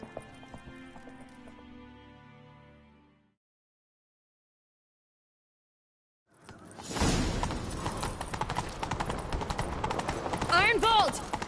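A horse gallops in The Witcher 3, rapid hoofbeats pounding loud and close after a stretch of music and silence, with other game sounds layered in and a whinny-like tone near the end.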